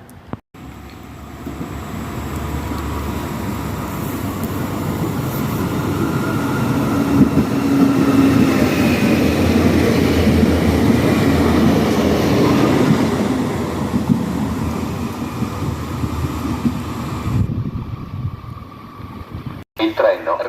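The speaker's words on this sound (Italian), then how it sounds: "Attenzione, treno in transito al binario 1." A train passes through platform 1 of La Spezia Migliarina station in Italy, a loud steady roar and rattle of wheels that swells and then fades out.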